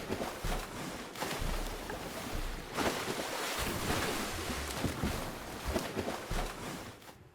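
Water splashes and churns after a shark demon explodes in a video game, a rough, surging wash of spray and surf that swells and ebbs steadily throughout, with no speech.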